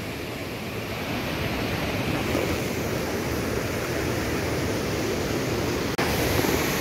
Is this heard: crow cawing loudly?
no